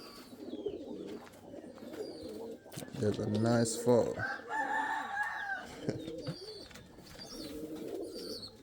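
Indian fantail and pouter pigeons coo in a breeding loft, soft throaty rolling calls repeating close by, with someone talking briefly over them.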